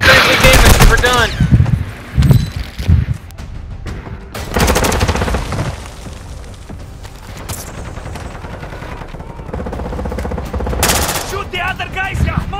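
Loud automatic gunfire and heavy shots in Call of Duty: Modern Warfare II, coming in dense bursts that ease into scattered fire, mixed with voices talking over the combat.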